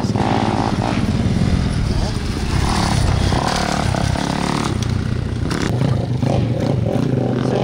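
Dirt bike engines buzz and rev loudly and continuously nearby on a Georgia riding outing, a rough droning tone rising and falling while people talk over it.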